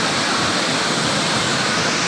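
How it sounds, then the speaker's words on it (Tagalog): Steady rushing water flows through a shaded river or stream bathing spot in Pantabangan, Nueva Ecija, a loud, even broadband wash that holds unchanged throughout. "ang ganda po ng daloy ng tubig"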